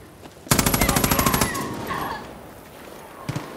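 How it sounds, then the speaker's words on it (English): Close, loud automatic gunfire in the video game Far Cry New Dawn, a rapid burst of about a dozen evenly spaced shots lasting about a second, then fading, with a single later shot. "Gunshot."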